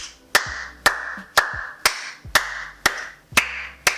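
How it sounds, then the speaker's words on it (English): Hands clap sharply eight times at a steady, even pace, each clap loud, close and ringing briefly, to set off a sound-activated laser galaxy projector. "when I start clapping, you guys can see it is sound activated"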